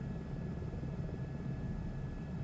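A flight-simulator airplane engine runs at full throttle, a steady low droning roar with a dense, unbroken rumble and no talk over it.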